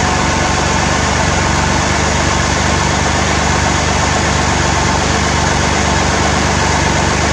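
A vehicle engine running steadily under 3,500 RPM during break-in, with an overheating issue, a loud, constant broadband drone with no change in pitch or pauses, heard alone.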